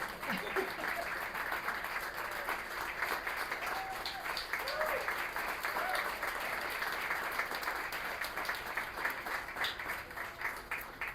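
Audience at a literary reading's tenth-anniversary event applauding, a dense, steady wash of clapping from a crowd sustained across the whole stretch, with a few faint voices mixed in.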